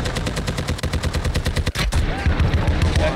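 Gunfire in the video game Call of Duty DMZ, sustained rapid automatic shots in a dense rhythmic stream with a brief gap midway, loud and close.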